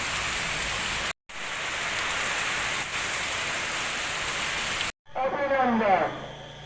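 Heavy rain pours steadily on an early Eid morning, a dense continuous hiss broken by two short cuts, with a brief burst of speech near the end.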